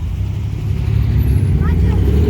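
Cars passing close by on a road, a loud continuous engine and tyre rumble that swells slightly as traffic goes past.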